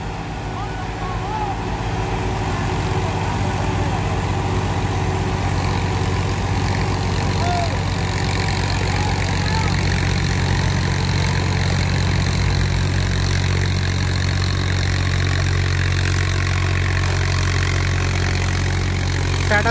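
A tractor's diesel engine idles steadily for the whole stretch, loud and close, with a constant low rumble and faint higher mechanical noise on top.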